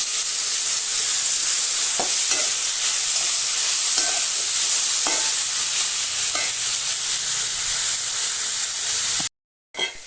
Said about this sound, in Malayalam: സവാളയൊന്ന് വഴറ്റിയെടുക്കാം.